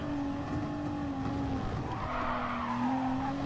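Tires squeal as a Nissan Nismo race car oversteers in Gran Turismo Sport, a continuous wavering screech over the droning engine, loud and close with no talk.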